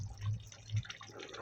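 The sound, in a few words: prawns added into potato curry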